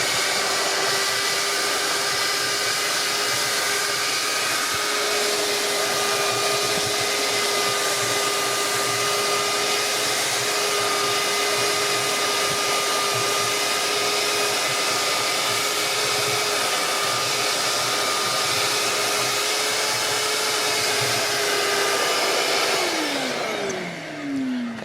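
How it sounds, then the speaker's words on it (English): Small 1-gallon shop vac running steadily, a loud continuous whine with a droning hum held for the full stretch before cutting off at the end. "I went ahead and got a shop vac. It's a little 1 gallon shop vac."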